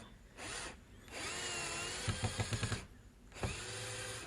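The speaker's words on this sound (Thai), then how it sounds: "ต่อไปจะเป็นสกูประมาณนิ้วครึ่งนะครับผม ลองเจาะเข้าไปดูนะครับ" Cordless drill, a Molita 128V, driving a 1.5-inch screw into plywood: steady motor whine with a quick burst of ratcheting clicks near the end, close and moderately quiet.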